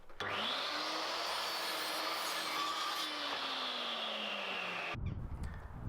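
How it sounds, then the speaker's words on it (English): Decking boards being cut to size with a saw for a compost bin, a close, loud, continuous rasping cut lasting several seconds before stopping abruptly. "Now I can cut some more decking boards down to fit into this gap."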